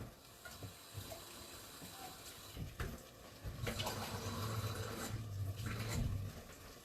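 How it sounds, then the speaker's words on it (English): Tap water runs into an emptied tin can for cooking Mexican rice, first a soft trickle, then a steadier rushing fill that swells as the can fills, close and continuous. "you're gonna refill this can with water all the way to the top"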